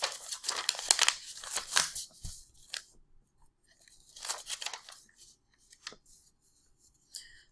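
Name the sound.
paper being folded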